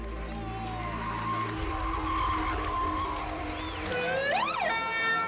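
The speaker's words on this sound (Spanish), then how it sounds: "El drift es otra cosa, es controlar un coche de lado por los puntos ya preestablecidos" Tires of a drift car skid sideways with a loud, sustained squeal and engine roar, the pitch rising and wavering as the car slides, with no voices.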